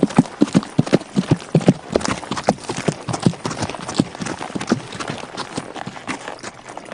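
Horse hooves clip-clop at a steady trotting rhythm, close and crisp, as a rider leaves on horseback in a folk-legend audio drama.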